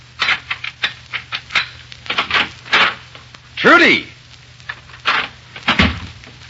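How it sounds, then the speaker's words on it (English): Radio drama effect of a key sliding into a door lock and the door swinging open: a run of small metallic clicks, rattles and knocks, close and crisp, followed by a voice calling out. "Presently, the cause of her ill temper inserts a key in the door."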